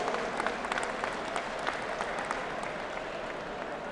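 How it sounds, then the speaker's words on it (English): Audience applause for volunteers at a veterans stand down event, a moderately distant, even patter of many hands clapping continuously throughout. "Let's give them a round of applause for everything they do for our veterans."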